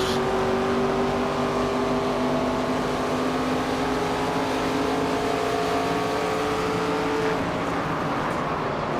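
Race car engines roar steadily in the NASCAR 25 video game, a loud, continuous droning whine from cars running close together on the track, with no one talking over it.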